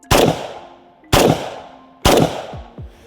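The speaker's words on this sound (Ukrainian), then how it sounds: "Три постріли." Three sharp rifle shots fired one after another at roughly one-second intervals during a firing drill, each a loud crack with a decaying echo, with no talk.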